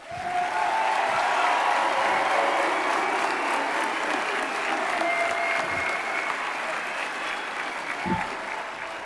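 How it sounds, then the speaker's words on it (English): A crowd at a military induction ceremony applauds the new inductees, loud sustained clapping that fills the room for several seconds and slowly tapers, with a few thumps and faint voices beneath. "let's give them one more round of applause"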